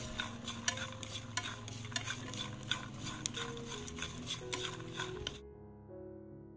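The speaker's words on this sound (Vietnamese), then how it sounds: "Rồi mình sẽ rang đậu phộng với cái lưỡi nhỏ thôi để cho đậu phộng của mình nó được giòn và thơm hơn." Peanuts and salt roasting in a pan and stirred with a small utensil, a dry rattling scrape that repeats in quick strokes and then cuts off abruptly near the end. The sound is close and steady, with no talk.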